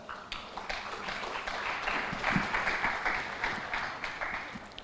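Audience applause for a Vice Rector at an international academic conference, a dense wash of many hands clapping at a steady, moderately loud level throughout.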